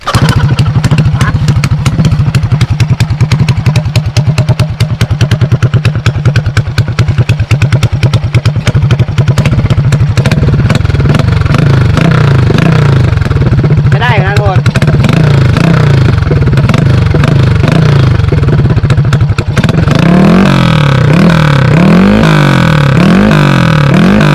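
Motorcycle revving with a drinking glass fitted over the end of the exhaust pipe, a loud close engine that rises and falls through repeated throttle blips, turning raspier and more wavering toward the end.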